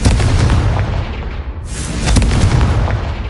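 A loud, booming Confringo blasting-spell explosion from a Hogwarts video game, with a deep rumbling burst that dips briefly and then swells into a second heavy blast.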